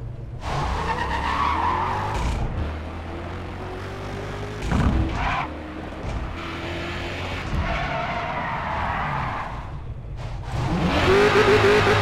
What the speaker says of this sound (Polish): Chrysler Hemi 300C SRT8. I na obecną chwilę samochód sobie brzmi,